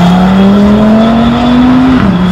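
A five-cylinder supercar launches hard at a concours event, its loud engine note rising steadily in pitch as it accelerates close by, then dropping briefly as the gear changes near the end.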